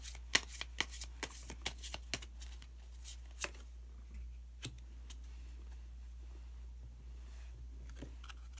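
Tarot cards are shuffled in a quick run of crisp riffling snaps, then a few isolated soft slaps and slides as a card is drawn, close and quiet.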